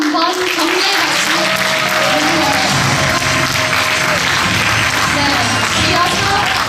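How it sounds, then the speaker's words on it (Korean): Audience at a Korean traditional music performance applauds the show's director, a full, steady round of clapping filling the whole stretch, with some voices and faint music underneath. "큰 박수를 한번 격려의 박수."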